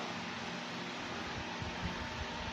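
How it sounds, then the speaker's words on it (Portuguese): An electric fan running in a room, a steady faint broadband whir with a low hum that holds evenly throughout, with no voices over it. "esse barulho no fundo eu acho, gente, que é o ventilador"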